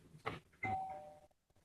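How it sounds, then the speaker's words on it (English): A doorbell rings twice indoors, a ding-dong chime with a ringing tone that fades out, heard alone at moderate loudness. "Oh, doorbell."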